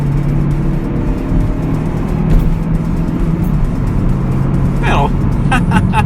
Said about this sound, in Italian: Adesso gli diamo giù tutto, come sentite si mette un pochino a caricare, però in alto a 4000 è molto cattiva.